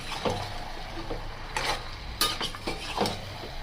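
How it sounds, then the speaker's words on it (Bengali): Chicken is slowly sautéed and stirred in a pan, with a faint low sizzle beneath scattered scrapes and clinks of a spoon against the pan, close and quiet. "ভালো করে কষা হচ্ছে আস্তে আস্তে।"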